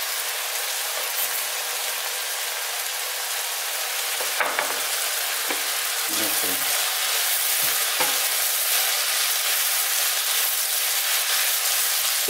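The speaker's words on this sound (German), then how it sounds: "So, die tun wir jetzt noch mal 3 Minuten anbraten." Chicken pieces sizzle and fry in a pan for a rice-and-chicken dish, a loud continuous crackle broken by a few clattering stirs and utensil knocks.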